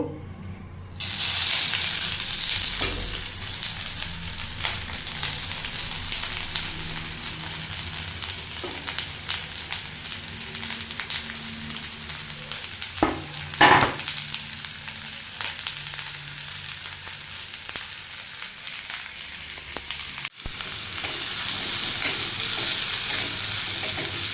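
Sliced onions, cut lengthwise, fry in hot oil for homemade tacos. A loud, steady sizzle runs throughout, broken by occasional clinks and scrapes of stirring.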